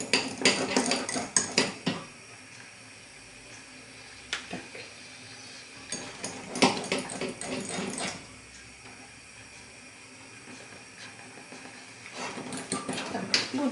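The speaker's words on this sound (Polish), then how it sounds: "Teraz to już trzeba intensywnie mieszać, ponieważ budyń gęstnieje." Thickening pudding stirred vigorously in a pot, with bursts of close metal-on-metal scraping and clinking that come and go in several spells, pausing into quieter stretches between them.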